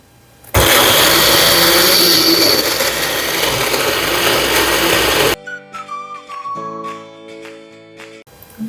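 Blender grinding ingredients for rapeseed greens kimchi roars loud and close for about five seconds, then cuts off abruptly, leaving quieter background music.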